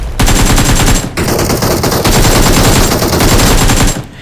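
Rapid bursts of automatic gunfire in the mobile shooter BGMI, loud and sustained in close succession with a brief gap, no voices over it.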